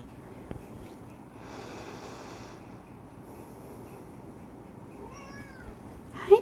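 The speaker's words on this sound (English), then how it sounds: "sorry, that's my cat." A pet cat meows near a microphone during a quiet home watercolor painting livestream, a short rising call toward the end over faint room noise with a brief knock earlier.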